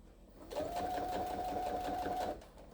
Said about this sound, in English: I'm gonna slow my sewing machine down.